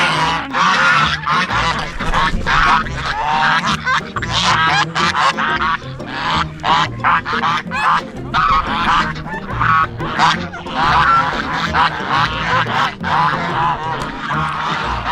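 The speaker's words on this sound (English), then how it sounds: "Whenever I let the geese out, that's when the mayhem begins." A flock of geese honking loudly and continuously, many overlapping calls close by, with no pause across the stretch.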